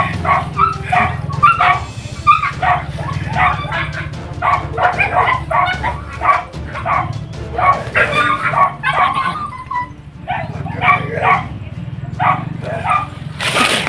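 A dog barks and yips repeatedly in quick, excited bursts, close and loud, with occasional whimpers between the barks.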